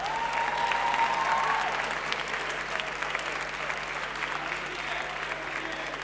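Sustained audience applause fills the whole stretch at a youth talent showcase, dense and steady clapping from a crowd with a faint whistle early on.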